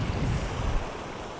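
Water from the flooded Bhima river rushes past nearby as a loud, steady broadband roar mixed with wind buffeting the microphone. No voices are heard.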